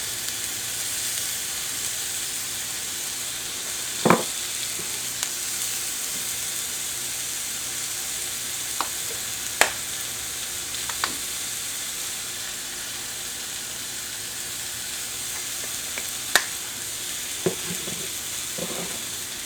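A burger patty with onions fries in a cast iron pan, giving off a steady close sizzle and hiss. A few faint clinks and scrapes from a utensil come through, and no one speaks.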